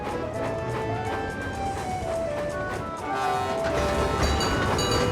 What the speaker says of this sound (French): Vous connaissez tous Toby, c'est le petit tramway de Chicalor.